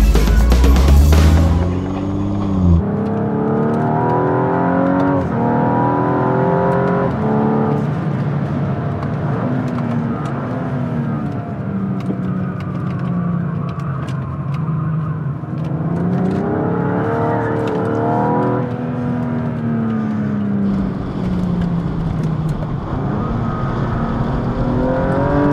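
A racing car engine runs steadily at Hampton Downs, a loud continuous drone with rising and falling revs and strong harmonic whine, heard close and alone without voices.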